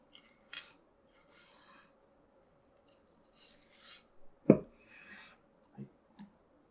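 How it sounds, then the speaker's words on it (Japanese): Knife cutting blood-line bones from a bonito fish on a board, giving quiet scattered rasping scrapes and one sharper crunch, with soft pauses between strokes. "血合い骨を切り取っていきます。"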